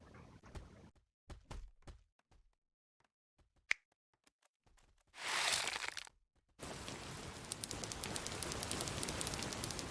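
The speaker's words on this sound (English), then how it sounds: "it's gonna rain over here on the orc territories for a little bit" Rain pouring over orc territories in the sandbox game Worldbox, a steady broadband hiss arriving after scattered clicks and thumps, with a brief loud whoosh burst just before it sets in.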